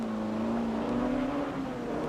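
Alpine race car at Le Mans pulling into the pits as an engine whine holds a steady note, rising slightly in pitch. It sounds fairly close and continuous, with no talk.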